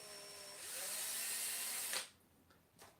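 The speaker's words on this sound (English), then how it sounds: "Drill through the body" A power drill whirs steadily for about two seconds while drilling through a small plastic glitter spider, then cuts off abruptly, followed by a couple of faint clicks.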